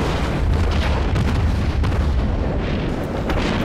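A naval gun salvo from the cruiser Phoenix in the World of Warships video game rolls as a loud, continuous booming rumble, dense and heavy throughout with no pauses.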